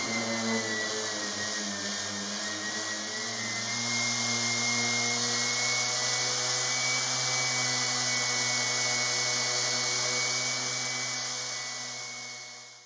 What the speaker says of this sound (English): before I can do that I have to sand it.